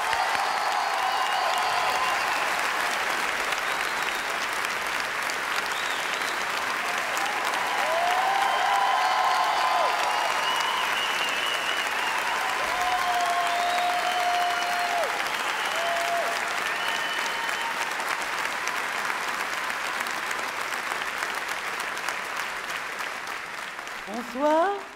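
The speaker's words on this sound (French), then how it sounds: "Nous vous demandons de l'applaudir comme seul le public liégeois peut le faire." Sustained, loud applause from a large crowd at the Liège International Comedy Festival, steady and full for most of the stretch, with voices calling out over it, before it tapers near the end.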